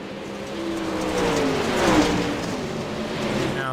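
Race cars circle a track during a race, their engines droning and revving in a continuous, dense roar, with pitch sweeps rising and falling as cars pass at a moderate distance.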